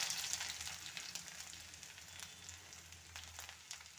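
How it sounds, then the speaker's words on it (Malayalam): Ginger sizzling in hot oil right after mustard seeds, for a crab curry, a steady soft frying crackle with faint pops at close range, no voices. "അതിലേക്ക് ഇഞ്ചി ഇട്ട് കൊടുക്കാം."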